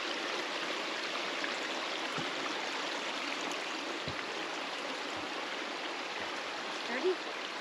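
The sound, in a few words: running water draining through a beaver dam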